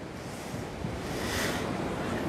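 Surf and wind along the seafront at Tramandaí beach, a steady broad rushing wash of breaking waves with gusting wind buffeting the microphone, swelling slightly toward the end, with no voices.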